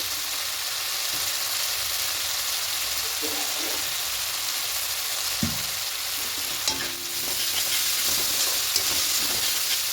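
Spices with ginger-green chilli paste and salt sizzle and fry in a pan for a small fish and potato curry, a steady hiss broken by occasional scraping stirs and clinks of the spoon, with faint talk in the background.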